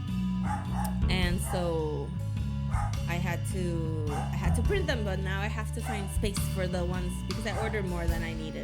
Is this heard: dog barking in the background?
yes